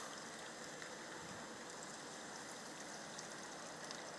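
A small stream rushing steadily, a dense even wash of flowing water with no pauses, fairly close and fairly quiet.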